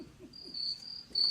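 A cricket chirping sound effect plays on a live comedy show: a steady, high, shrill trill that sounds on its own with no talk over it.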